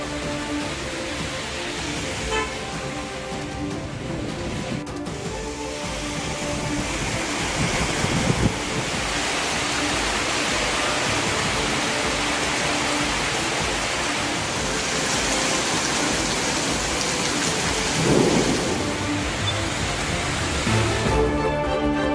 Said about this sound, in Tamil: ஈரோடு மாவட்டம் கோபிச்செட்டிப்பாளையம் சுற்றுவட்டார பகுதிகளில் கனமழை